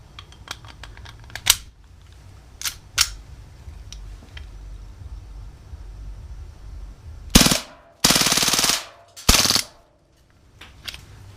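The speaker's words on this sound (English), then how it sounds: "I'll show you some full auto shots" An Umarex M712 CO2 BB machine pistol with blowback fires several short single shots and then two loud full-auto bursts, each a dense rapid rattle lasting about a second, with quiet handling clicks in between.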